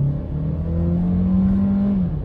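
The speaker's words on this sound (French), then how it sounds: "vous sentez que le moteur monte vite fait dans les tours" Inside a Seat Leon FR in sport mode, the engine revs up quickly with a steady rising drone that climbs and holds, heard from the cabin without speech.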